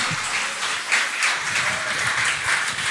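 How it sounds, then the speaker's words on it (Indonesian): An audience at a Christian youth seminar applauds, a dense, even wash of many hands clapping close by for the whole stretch. "berikan tepuk tangan yang meriah"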